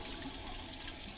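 Warm water runs steadily from a tap while preparing a wet-shaving lather, a continuous close hiss of flowing water with no voices.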